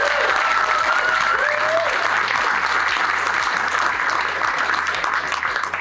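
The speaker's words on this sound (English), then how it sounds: "Let's have a round of applause for" An audience at Sorcery Con 2024 applauds in sustained, dense clapping that stays loud and even throughout, with a faint whistle rising briefly near the start.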